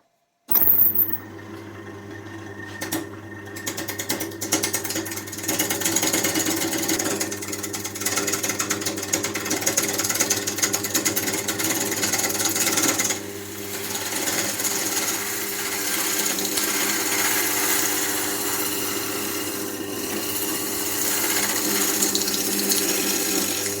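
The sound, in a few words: wood lathe turning a wormy wood blank into a cylinder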